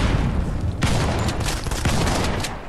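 Dense bursts of automatic gunfire fill a Modern Combat 5 multiplayer match, loud and continuous with sharp shot attacks layered over a constant rumble and no break.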